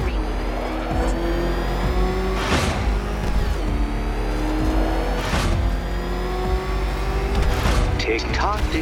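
Batmobile in the Batman: Arkham Knight video game, its engine droning loud and steady with repeated revving surges and accelerating bursts, game voices talking over it.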